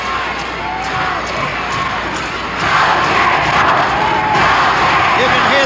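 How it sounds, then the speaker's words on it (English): A 1970s Memphis wrestling arena crowd roars in a steady, dense wash of shouting and cheering for Jerry Jarrett, swelling louder midway and staying loud, with voices and chants blurred together rather than picked out. "You can hear the crowd in the background."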